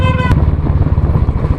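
A 2019 Royal Enfield Classic 350 exhaust thumps steadily at close range in a loud, pulsing low rumble, with a brief high-pitched tone at the very start.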